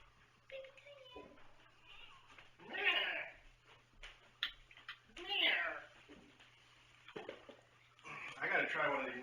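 A cat meows several times in a row, close and fairly loud, with drawn-out rising calls at intervals, while a person speaks softly between the calls.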